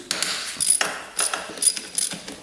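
A ratchet wrench works on the cylinder head bolts of a 450cc dirt bike, giving several quick bursts of close, crisp clicking separated by short pauses.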